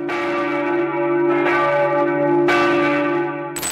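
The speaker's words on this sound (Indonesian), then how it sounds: "Gereja-gereja di sana juga akan membunyikan lonceng setelah dan juga sesudah pemakaman." Church bells in Britain ring for a royal funeral, loud and resonant, with several heavy strikes whose long humming tones overlap and linger between blows.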